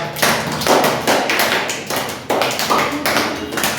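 A class of students claps together in a classroom, several short bursts of applause separated by brief pauses, close and fairly loud.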